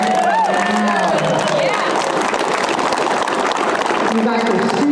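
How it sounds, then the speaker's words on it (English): A crowd cheers and claps, with whoops and shouts rising over a dense wash of applause, loud and sustained throughout. "give yourself a huge round of applause"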